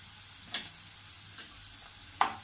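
Homemade Malvani masala sautéing in a pan, a soft continuous sizzle broken by three light scraping stirs spaced about a second apart.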